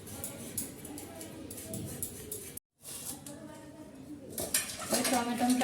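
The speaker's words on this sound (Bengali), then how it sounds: "আলুটা কাটো, বেশি টাইম লাগবে না, আলু কাটতেও একটু ঝামেলা লাগে সত্যি।" Potatoes being cut with a knife in a home kitchen, a steady run of dull chopping and scraping knocks with some clinking of utensils and dishes, close by, with a brief dropout partway through.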